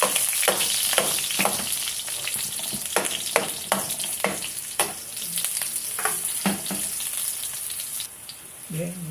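Onion and garlic sautéing in a pan for beef rib caldereta, a steady close sizzle broken by repeated sharp stirring clatters, with a brief quieter stretch near the end.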